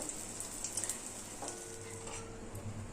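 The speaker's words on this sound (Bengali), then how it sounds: "এইবার আমরা মালপোয়াগুলো ভেজে নেব।" Malpua batter frying in hot oil in a kadai: a soft, continuous sizzle with light clinks of a ladle near the start, fairly quiet and close, with no talking.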